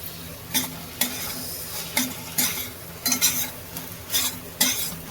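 Dried shrimp (jawla) being stirred in a pan with chili and salt: repeated scraping strokes of a spatula against the metal roughly every half second, over a soft low sizzle, close and fairly clear, with no talking.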